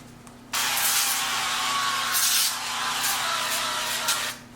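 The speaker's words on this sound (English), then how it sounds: "we're going to give it another spray of the avocado oil spray" Avocado oil cooking spray hisses from a can onto food spread on a sheet pan in one sustained burst of about four seconds, close and fairly loud, over a faint kitchen hum.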